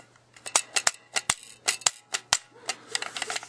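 Quick, crisp metallic clicks and clacks from a S&W M&P45 pistol as its slide drops and is handled, some loud and sharp, others lighter, in an irregular run close by in a quiet room.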